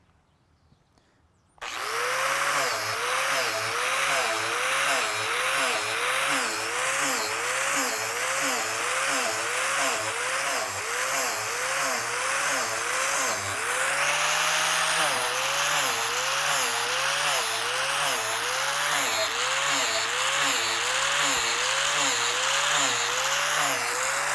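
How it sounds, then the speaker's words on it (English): A loud, steady angle grinder whine with a rhythmic pulsing grind, drilling holes into a log for mushroom inoculation, running continuously for over twenty seconds after a short quiet start. "I'm going to just drill these holes really quick"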